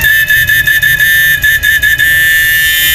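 Repaired old 999000W inverter gives off a steady, loud, high-pitched whine that sits over a constant noisy hiss with a faint low buzz, running continuously without a break.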